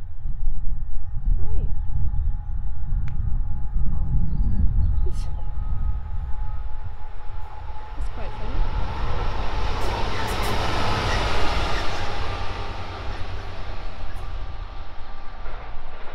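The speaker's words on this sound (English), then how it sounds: "So the first train of the day looks like it's a single" A single train runs along the South Western Main Line at Winchfield, its rumble swelling from a distance into a loud, sustained broadband rush midway, then easing away over steady outdoor ambience.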